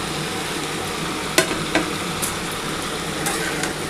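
Cabbage fries steadily in a pan with a soft continuous sizzle as chopped tomato goes in, a few brief stirring clicks and scrapes rising above the hiss.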